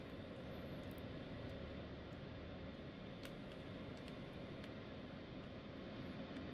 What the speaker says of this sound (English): Full afterburner on the left engine.